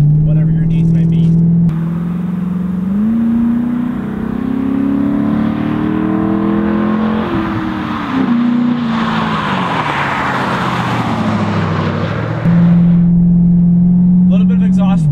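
Modified 2006 Ford Mustang GT with a Flowmaster Outlaw axle-back exhaust revs loudly and close, its deep engine note climbing and falling through several sustained pulls with a raspy, droning roar.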